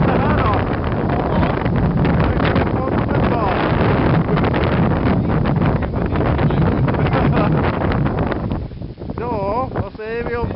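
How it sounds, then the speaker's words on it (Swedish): Strong wind buffets the microphone during an ice yacht ride at Södra Hammarö, a loud, rushing roar that runs continuously before easing slightly near the end, where a voice briefly speaks. "Det blåser."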